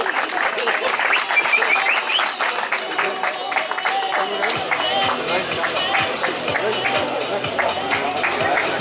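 A crowd at a village trail-run awards event in Ioannina applauds the runners, sustained clapping that thickens midway, mixed with a murmur of voices and an announcer's speech.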